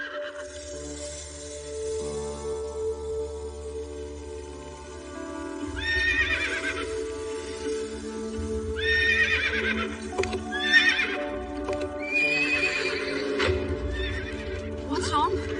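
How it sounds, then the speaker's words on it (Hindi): A herd of horses repeatedly neighs and whinnies over galloping hoofbeats in a comedy film scene, loud and close, with several whinny bursts rising over a steady rumble and voices talking underneath. "ये सारे घोड़े इस तरफ क्यों आ रहे हैं?"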